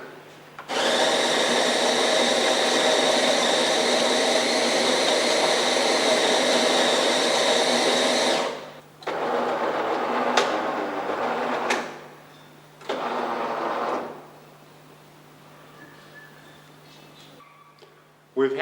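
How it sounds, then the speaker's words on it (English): A Xiamen Fast Cleaner automatic coffee maker dispensing coffee grinds and whirs loudly for several seconds, then runs in two shorter mechanical bursts with pauses in between, close and steady. "Now Maggie will add coffee to the foamed milk"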